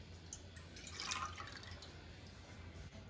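Evaporated milk and vegetable broth poured into a saucepan make a soft, steady liquid trickle with a brief louder splash near the middle, quiet and close, no voices.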